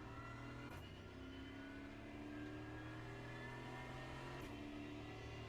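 A GT4 race car in the iRacing sim climbs up through the gears, its engine droning steadily with rising pitch, then a brief break at each shift before the note climbs again.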